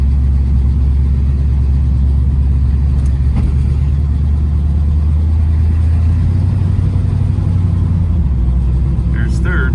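A car nicknamed Blue Bomber with a newly installed transmission drives along, its loud, steady engine drone dropping in pitch as it shifts into second gear, with someone talking over the cabin rumble.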